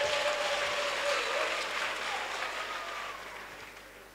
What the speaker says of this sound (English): clap your hands to Jesus Christ